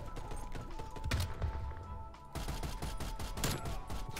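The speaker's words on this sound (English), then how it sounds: "The hip fire through the smoke." Rapid bursts of hip-fired gunshots ring out through smoke in a first-person shooter, dense loud volleys with a short lull midway before the firing resumes.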